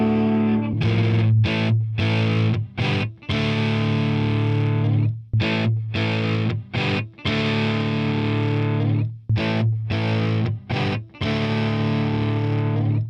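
Loud distorted electric guitar chords through a Mojotone British 45 Plexi-style tube amp, played in choppy bursts with brief stops between phrases, thick overdriven amp tone, no voices.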